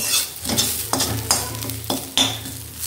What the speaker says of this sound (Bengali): তারপরে ভাজবো হচ্ছে নিম পাতা।